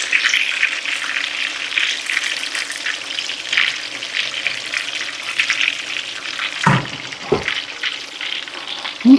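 Salmon patties frying in a pan give a steady, bright sizzle and crackle throughout, with a couple of soft low knocks near the end and no voices.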